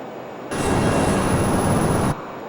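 A Learjet 35A in Microsoft Flight Simulator climbing toward 20,000 feet, a steady broadband jet roar with a thin high whine that starts abruptly, holds evenly for under two seconds, then cuts off.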